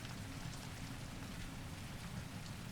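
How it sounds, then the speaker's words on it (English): Steady rain falls on windows and skylights on a stormy mountain night, a soft, even, constant patter with a low rumbling undertone and no voices. "listening as the rain falls upon the windows and skylights"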